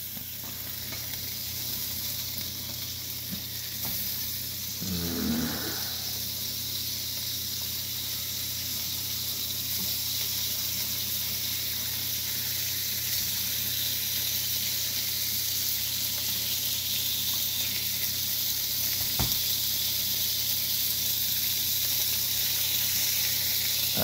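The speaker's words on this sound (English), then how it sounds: "As long as you like watching a burger cook" A burger sizzles steadily in a pan, a constant close frying hiss lasting throughout with a brief stir or shift partway through.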